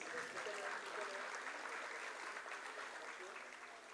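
An audience at a school annual showcase claps in sustained applause as a guest is welcomed with a planter, a dense even wash of hands that stays level throughout and eases only a little at the end.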